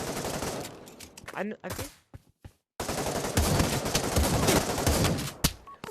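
Shotgun sniper rifle fire in the Pavlov VR game, dense bursts of loud gunshots broken by short pauses, with a voice talking briefly among the shots.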